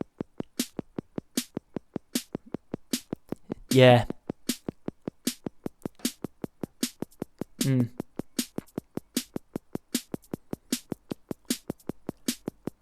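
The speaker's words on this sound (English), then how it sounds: "just program some drum beats in, and they sound like this" Programmed drum beats played back from Reaper: a steady, loud electronic pattern of sharp kick and hi-hat hits with snare accents, with a brief spoken word over the groove.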